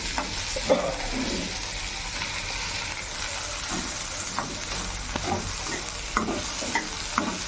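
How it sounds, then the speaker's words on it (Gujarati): Finely chopped potatoes frying in oil for Gujarati poha make a steady, moderate sizzle. Scraping and clinking from a spatula stirring the pan cut through it at intervals. "ઝીણા ઝીણા કાપેલા બટાકા હતા હવે નાખીશું। એને પણ ફ્રાય કરી લઈએ સારી રીતે।"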